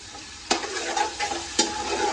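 Onions fry in oil in a pan for chana pulao, a steady close sizzle broken by two sharp stirring clatters, no voices.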